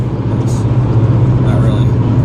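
A car passes on a German Autobahn, its rushing road noise swelling briefly over the steady, loud engine and tyre drone of a moving car.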